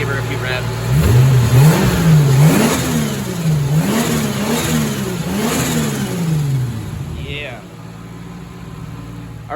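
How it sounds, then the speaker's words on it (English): A Toyota 2JZ-GE VVT-i engine, swapped from an IS300 into an S13 chassis and already warmed up, revs up several times in rising and falling sweeps, loud and close, then settles back toward idle. "Already warmed up, so we'll go ahead and give her a few revs"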